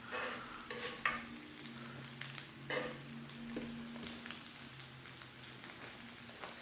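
Korean pancakes fry in a pan with a steady, close sizzle and a few scraping turns of a spatula, with no one talking.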